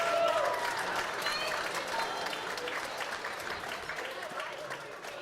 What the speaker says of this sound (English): Please give him one more big round of applause.